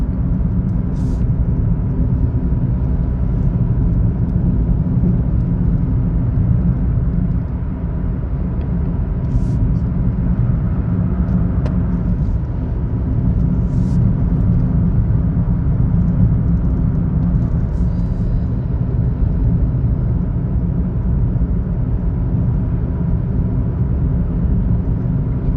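A car climbs the two-lane Angeles Forest Highway (CA-2) mountain road in sport mode, holding about 3,000 RPM near 45 mph. A steady, loud low engine and road rumble runs unbroken throughout, with no talking.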